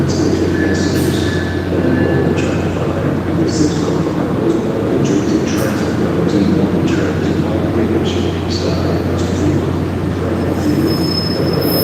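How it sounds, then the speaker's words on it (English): Amtrak regional train passing through Newark Airport station, a steady loud rumble of railcars with repeated high wheel squeals throughout, and faint background voices on a crowded platform. "That Amtrak, yeah, that's a regional 178"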